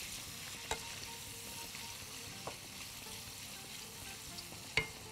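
Chopped garlic and already boiled vegetables sauté in a pan with a soft, steady sizzle. A few faint clicks of stirring come through; the sound is quiet and close.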